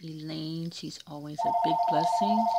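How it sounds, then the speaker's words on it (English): A telephone rings partway through, a repeating electronic tone pulsing steadily underneath a person who keeps talking over it. "sorry about the phone."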